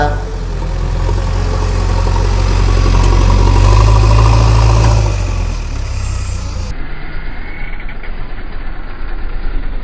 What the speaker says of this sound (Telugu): ఇది మన జేసీబీ పని. సో మట్టి ఒక దగ్గర నుంచి ఒక దగ్గరికి అయితే వేసే పని అయితే చేస్తున్నాము.